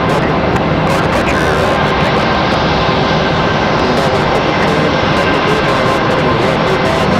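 A JetBlue jet airliner taxis toward an airport gate, a loud steady engine roar filling the whole stretch without letup, close and continuous.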